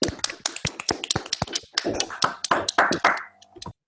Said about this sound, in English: We can try for a real applause here if people want to unmute themselves quickly